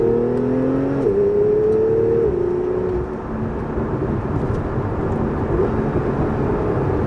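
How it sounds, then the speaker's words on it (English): A Porsche 911 Carrera S Cabriolet engine drops pitch across manual downshifts, then settles into a steady low exhaust drone from inside the moving car, with faint pops. "The burbles and cracks. That's Porsche for you guys."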